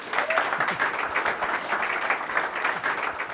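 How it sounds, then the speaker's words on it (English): A studio audience at a comedy show gives a warm round of applause for a guest, a continuous, moderately quiet spread of many hands clapping without speech. "warm round of applause for Andy Moratis"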